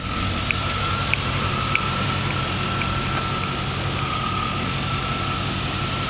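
A 1994 truck engine idles outdoors in cold weather around 30 degrees, a steady low drone with a couple of faint ticks.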